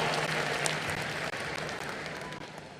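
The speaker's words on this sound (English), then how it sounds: "Round of applause to you." Audience applause at the closing ceremony of the 53rd IFFI film festival, a dense, even patter of many hands clapping throughout, fairly faint and alone.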